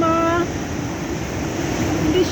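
Strong sea waves rolling onto Jiyeh beach in Lebanon, a steady broadband roar of surf mixed with gusty wind buffeting the microphone, with a brief voice at the start.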